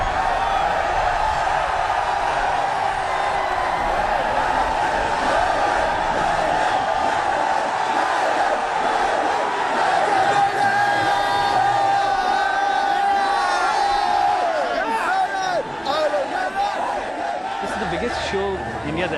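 A huge crowd of around 30,000 Indian metal fans roars and cheers at a concert in India, a dense, sustained wall of voices and whoops that stays loud and unbroken throughout.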